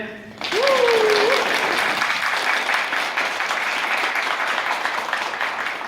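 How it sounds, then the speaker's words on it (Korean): Loud, dense applause fills a hall at a 2018 environmental art festival opening in Gumi, Korea, sustained for several seconds after a brief whistle-like tone at the start, with a voice faintly underneath. "박수를 크게 쳐주시면 되겠습니다"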